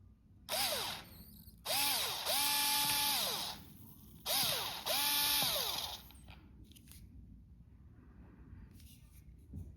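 A power drill backs a screw out of a bicycle tyre sealed with Silca Fiberfoam sealant, whining in three close bursts with rising and falling pitch, followed by quieter handling noises.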